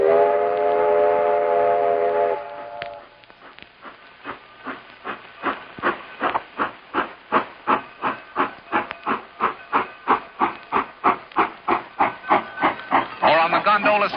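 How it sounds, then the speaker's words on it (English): Steam train at a Western theme park: a long loud hiss of steam, then rhythmic chuffing puffs building steadily and evenly as the locomotive pulls away, close and prominent. "all aboard, which starts you on your train ride"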